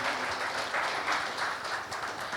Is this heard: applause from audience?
yes